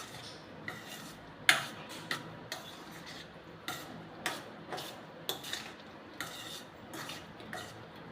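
Raisins and cashews being stirred into a sticky boondi laddu mixture in a pot make rhythmic scraping and clacking strokes, about one per second, close by with no talking.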